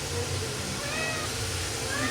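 A house cat meows a few times, short faint cries over a steady background murmur.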